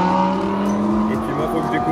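Race cars lapping a circuit in Australia, a steady, fairly close engine drone with shifting revs and cars passing through.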